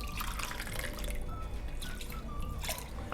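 Coconut milk and water poured into a pot of prawn biryani, a close, continuous splashing and gurgling of liquid with small drips, steady and fairly quiet throughout.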